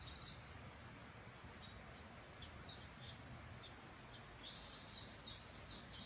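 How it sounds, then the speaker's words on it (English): Bird singing in a backyard, faint repeated chirps and brief whistled phrases over steady broadband background hiss, with a slightly louder song burst near the end. "You hear the bird?"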